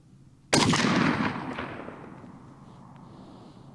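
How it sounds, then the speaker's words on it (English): A single sharp gunshot from a Zastava ZPAP M70 AK-47 rifle with walnut furniture, fired outdoors at a target; a loud crack followed by a long, fading outdoor echo. "I'm just going for 3 shots per target."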